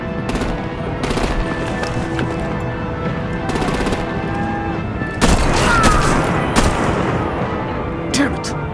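Rapid bursts of gunfire and booming explosions from the Batman: The Enemy Within video game, loud and repeated in clustered volleys over a steady background, with voices talking in places.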